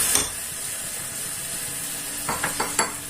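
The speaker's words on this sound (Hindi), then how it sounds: "इसे भी अच्छे से भून लें।" Ginger, tomatoes and green chilies frying in a pan give a steady close sizzle, with a few louder bursts of spattering and stirring near the end.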